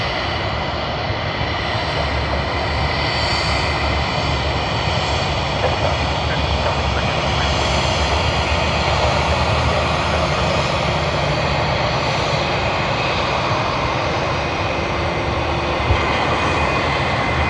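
A Jetstar passenger jet on the Sydney to Melbourne service roars at Sydney Airport, a loud, steady, broadband engine rumble that holds for the whole stretch with no voices over it.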